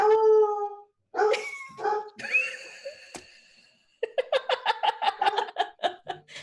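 A dog indoors gives a drawn-out howl, then whines and yips, ending in a quick run of sharp barks. It is close and clear with no talk over it.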